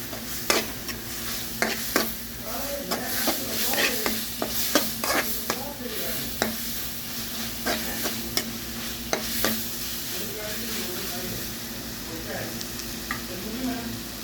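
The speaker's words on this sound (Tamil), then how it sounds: "நல்ல ஒரு கிண்டு கிண்டியிருக்காங்க" A spoon scrapes and clacks against a pan in a steady rhythm while masala for an egg fry sizzles and fries underneath.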